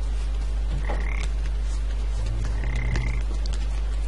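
Toads croaking in the video game Papo y Yo, two distinct croaks about two seconds apart over a steady low background hum, close and without talk.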